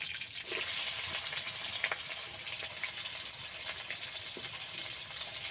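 Spices tempering in hot oil with two bay leaves: a steady, bright hiss of frying with scattered small crackles, continuous and fairly close, no talking.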